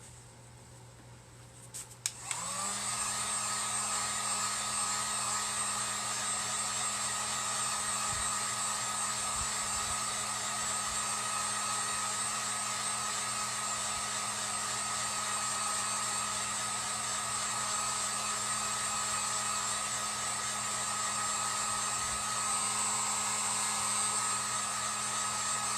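A hair dryer dries the painted welcome lettering on a United States sign, switching on after a click and then blowing with a steady, close whir for more than twenty seconds.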